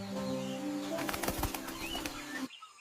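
Quetzal bird flapping its wings in a jungle setting, a burst of quick fluttering beats over a steady background hum, fairly close, stopping abruptly near the end.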